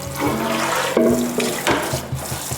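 Water runs from a tap as air fryer parts are rinsed in a sink, a steady close splashing and gushing with a few hollow knocks of the parts against the basin.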